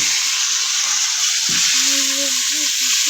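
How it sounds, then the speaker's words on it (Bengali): Potatoes frying in hot oil for a Bengali fish curry, a steady bright sizzle filling the clip, with a brief stir or clatter midway and a faint voice murmuring underneath. "তেল গরম হয়েছে, প্রথমে আমরা আলুটা দেবো।"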